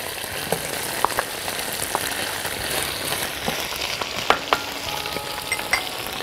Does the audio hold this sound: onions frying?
yes